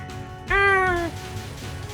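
A cat gives a single clear meow lasting about half a second, close and fairly loud, with a falling pitch against a quiet background.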